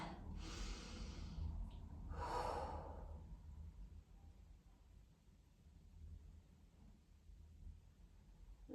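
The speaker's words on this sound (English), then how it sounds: "Take a nice deep breath there." Deep breaths during barre stretching on the floor, two clear close exhales or sighs early on, then quiet soft breathing with low background noise.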